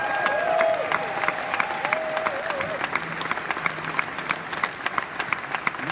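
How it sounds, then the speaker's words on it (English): Applause from an audience at a company launch event in Amsterdam, a steady wash of clapping with a few louder individual claps, carrying on alongside a faint sustained tone in the background. "Big applause for our developers."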